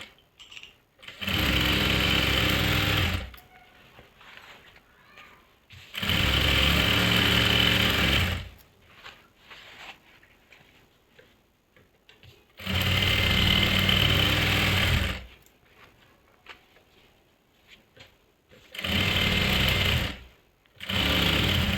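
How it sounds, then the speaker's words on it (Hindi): A sewing machine stitches salwar fabric in a tailoring boutique. It runs in four separate loud, steady bursts, with quiet pauses between them. "तो मैं यहीं तक सिलाई लगाऊंगी"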